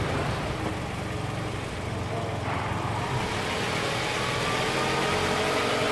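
A Toyota Hilux engine idles steadily with its 4x4 drive engaged, a continuous close mechanical rumble holding level throughout with no voices over it.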